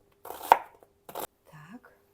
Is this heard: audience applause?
no